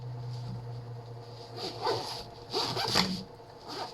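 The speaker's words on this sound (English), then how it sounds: "Zip this up." Several rasping zips in quick succession as a zipper is pulled closed on a bag during metal scrapping, close and fairly loud over a low background hum.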